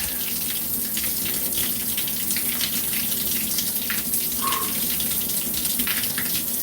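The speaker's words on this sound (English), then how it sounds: "I take a cold shower here" A cold shower runs steadily, its dense, even hiss of falling water filling the whole stretch close by with no voices over it.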